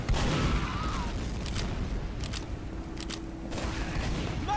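Rapid gunfire and rocket blasts from a team shooter game, a dense, continuous barrage of overlapping shots and booms at steady loudness for several seconds, with no talk over it.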